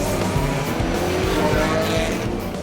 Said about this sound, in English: The 8-hour race begins.